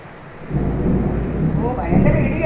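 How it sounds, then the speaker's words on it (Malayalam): Loud, deep rumbling thunder rolling outside a home kitchen during a storm, swelling low and heavy for a couple of seconds with faint rain beneath. "ഓ ഭയങ്കര ഇടി കേൾക്കുന്നുണ്ടോ?"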